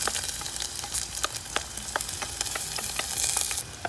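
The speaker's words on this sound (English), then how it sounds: "So saute well. Let the ginger garlic turn light golden." Chopped ginger and garlic sauté in oil in a clay pot for Kerala fish curry, giving a steady close sizzle with crackling pops and occasional scrapes of stirring and no voices.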